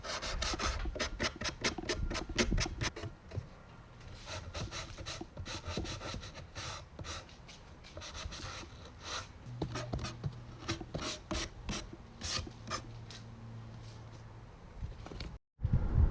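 Wood is hand-sanded with drywall sandpaper to remove splinters, a close rhythmic series of dry rasping strokes, fast and dense at first and then slower and more spaced out.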